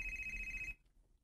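A cellphone rings with a steady electronic tone that cuts off abruptly under a second in, then leaves quiet room noise; faint and alone with no talk.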